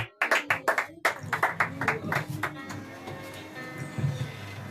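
A church congregation claps to acclaim Jesus at a Sunday service, sharp rhythmic handclaps in quick bursts that settle into steadier applause while voices and a low musical drone carry underneath.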